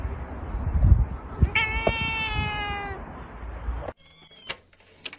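A cat meows several times in a row with drawn-out, tonal calls, close and fairly loud, followed by a quieter stretch with a few fainter sounds.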